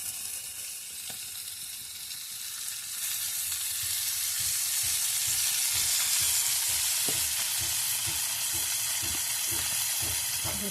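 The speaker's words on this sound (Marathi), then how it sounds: "जरासं तेल घालून घेतलं म्हणजे मासे भाजतं बरे अजून मस्त दिसतं." Fish frying in oil in a pan over a wood-fired clay stove, giving a steady, close sizzling hiss that swells louder partway through and holds with faint crackles throughout, no voices.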